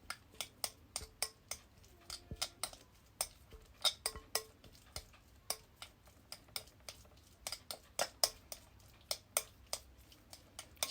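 Hand exfoliant ingredients stirred in a bowl, a steady run of quick, light clinks and scrapes of a utensil against the bowl, close and fairly quiet, with no talking.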